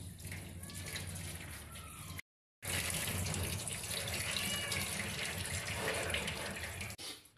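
A tap runs steadily into a basin while a rescued stray dog is bathed and washed, with a continuous close rushing flow that cuts out briefly and then resumes.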